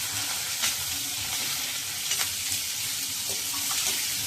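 Tomatoes frying in a pan for a chutney served with idli and dosa, giving a steady hissing sizzle close by with a few soft stirring clicks scattered through it.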